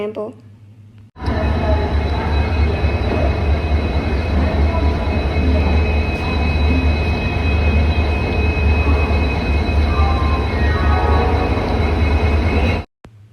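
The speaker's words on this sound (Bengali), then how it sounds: "এবার চক্রধরপুর এক্সপ্রেসে করে পুরুলিয়া যাচ্ছি" Chakradharpur Express running on the Howrah to Purulia line at night, a loud continuous rumble of wheels and carriage from inside the train, steady for about twelve seconds before cutting off abruptly.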